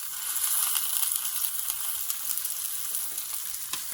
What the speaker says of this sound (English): I'm going to let these cook for about 3 minutes until the seasonings get blackened.